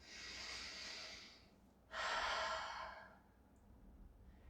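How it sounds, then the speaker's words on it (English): Two long, deep breaths taken during a seated hip stretch: a steady airy inhale then, after a brief pause, a louder, fuller exhale that gradually fades, close and clear with no talking. "So nice deep breaths, relax the shoulders."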